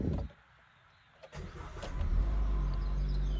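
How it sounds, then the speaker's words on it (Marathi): A car engine cold-starts: a brief crank, a quiet pause, then the motor catches and settles into a loud, steady low rumble close by. "आता आपली कार कोल्ड स्टार्ट झालेली आहे."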